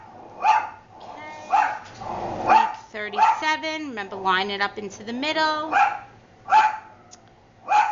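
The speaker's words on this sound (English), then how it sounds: "Oh, sorry, that's my dog." A nearby dog barks repeatedly in sharp bursts while a person speaks over and between the barks.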